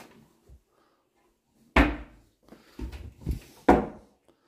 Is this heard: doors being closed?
yes